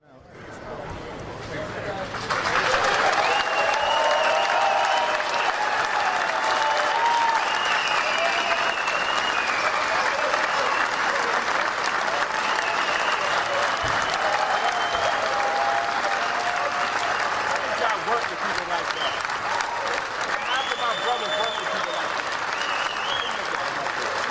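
A crowd of people applauding outdoors in news footage, dense sustained clapping that swells in quickly and stays loud throughout, with voices and shouts mixed in over the applause.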